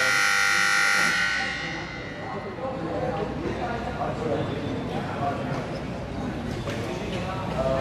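A loud, harsh electronic basketball game buzzer blares for about a second, then gives way to the noisy murmur of an arena crowd.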